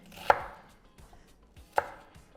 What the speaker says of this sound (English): when you chop an onion, you want to remove that outer layer.